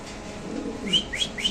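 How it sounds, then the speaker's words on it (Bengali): A pigeon calls close by, giving three short rising notes in quick succession over a faint background hum. "কবুতর ডাকটা ইনশাল্লাহ আপনাদের দেখা দিচ্ছি"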